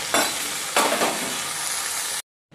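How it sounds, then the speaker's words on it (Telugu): Mint, green chillies and coriander fry in a pan with a steady broadband sizzle, broken by a couple of brief stirring scrapes and then a sudden drop to silence near the end. "పుదీనా కూడా వేసుకుని ఫ్రై చేసుకోవాలి."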